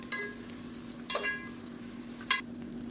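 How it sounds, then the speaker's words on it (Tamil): Onions sautéing over a medium flame for mutton biryani, a quiet steady sizzle with a low hum beneath and three brief clinks of a spoon stirring against the pan, no voices. "மீடியமான ஃப்ளேமில் வச்சு வதக்கி விட்டுக்கோங்க"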